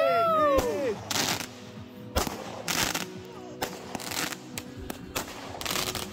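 A New Year's firework barrage fires overhead, with whistling launches followed by a series of sharp, repeated bursts and crackling at irregular intervals, moderately distant outdoors.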